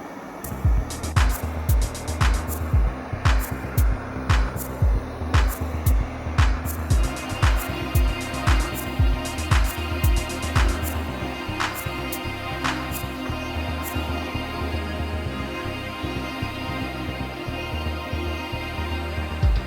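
Eufy RoboVac G10 Hybrid robot vacuum spot cleaning, its hum joined by a regular run of sharp clicks that thin out partway through, with the motor drone carrying on alone near the end.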